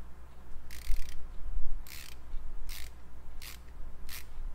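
Five short bursts of quiet ratchet clicking from a Channellock ratcheting screwdriver, spaced about a second apart, soft and close against a low background hum.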